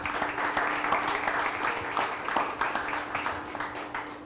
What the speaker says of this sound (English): Can we have a big round of applause to Vikre for hosting us this evening?